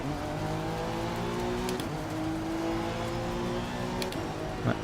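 A field of race cars, including a Honda NSX and a BMW, accelerating off the line at a sprint race start at Watkins Glen in Assetto Corsa Competizione, a dense layered engine roar climbing in pitch together, with brief tire chirps and no talk.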